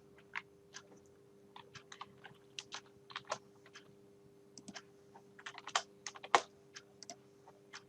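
Typing on a computer keyboard nearby, a quiet irregular run of soft key clicks in short bursts with a louder keystroke near the end, over a faint steady hum, without talk.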